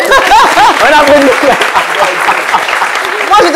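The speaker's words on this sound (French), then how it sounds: "On applaudit pour elle. On applaudit." A French studio audience claps for a participant, a loud burst of applause mixed with prominent overlapping voices and light laughter throughout.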